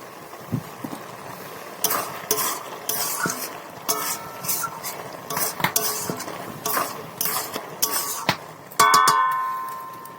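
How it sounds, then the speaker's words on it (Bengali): A spoon clatters against a pot as fried prawns and water are stirred into a Bengali bottle gourd and prawn curry, with repeated scraping and clinking strokes, a few sharp metallic rings near the end, and no talk. "একটু জল দিয়ে এই ভাজা চিংড়িটা দিয়ে দেবো।"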